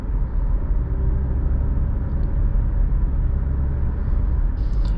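Cabin of a 2018 Nissan Rogue SL on the move, a steady low road and tire rumble that holds constant, with a faint higher hiss of a passing car near the end.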